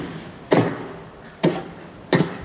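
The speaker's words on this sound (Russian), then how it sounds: "это звук, когда ты бьешь железного голема." Three sharp, dull impact thuds of hitting an iron golem in Minecraft, spaced about a second apart over a low, steady background hiss.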